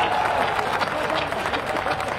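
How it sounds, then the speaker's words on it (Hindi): An audience at a Ram Navami political rally claps and cheers in a dense, continuous burst for about two seconds. "तालियां बजाइए एक बार ज्यादा।"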